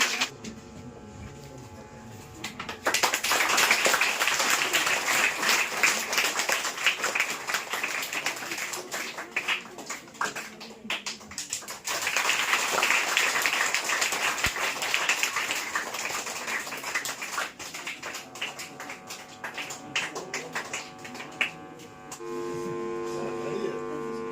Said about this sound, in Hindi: जोरदार ताली होगा